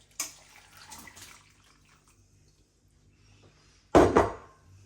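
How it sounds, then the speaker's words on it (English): Water is poured into a Pyrex measuring jug in a home kitchen. A short, close splashing pour comes near the end, after a few faint knocks. "you've got to get a Pyrex jug out or a measuring jug and measure out 300 ml of water and then do this"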